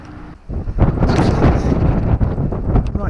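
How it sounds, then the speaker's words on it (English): Strong wind blasts across a pier, making a loud, continuous rumble on the microphone after a brief quieter moment at the start. "Right, still very windy"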